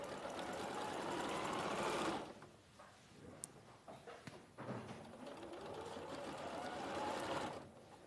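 Sewing machine running a quarter-inch seam, a steady close whirring stitch that stops for a few seconds of fabric handling and then runs again.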